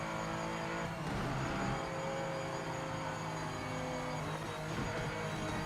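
Race car engines in the sim racing game Project Motor Racing roar steadily at high revs, several cars droning together with shifts and swells, loud and unbroken with no talking.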